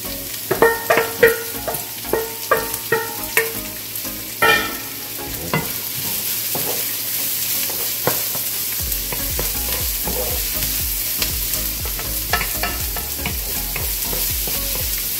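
Ground pork with onions sautéing in a pan, steady frying sizzle throughout with clattering utensil stirs and scrapes near the start, the sizzle growing fuller in the second half; no talking.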